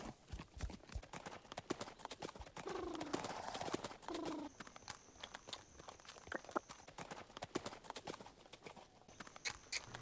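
Hooves of a horse being lunged clip-clop in a soft, irregular rhythm on the ground, faint and distant, with birds cooing and chirping in the background.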